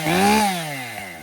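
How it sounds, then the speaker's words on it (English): A Husqvarna 550XP chainsaw at fast idle gets a quick throttle blip, its engine note rising briefly then falling back to a steady drone, close and loud, with no talking. "now I'm going to blip the throttle."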